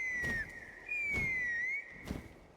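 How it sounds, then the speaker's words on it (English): A whistle in a video game, a clear high tone held steadily with a slight pitch glide, sounding in two long blasts separated by a short gap, with soft thumping steps underneath. "That sounded like a whistle."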